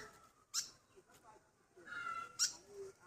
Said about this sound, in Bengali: আর আপনারা এটা ডাক শুনতে পাচ্ছেন যে এটা মা ডাক পাচ্ছে